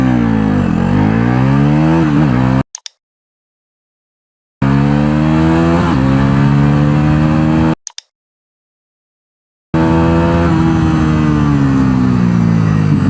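A Bajaj Pulsar NS400 motorcycle accelerating hard from standstill toward 100 km/h, loud and close, its engine note climbing through rising gear pulls with sharp drops at each shift, cut by two stretches of silence.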